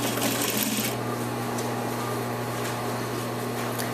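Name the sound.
sewing machine stitching a cuff to a sleeve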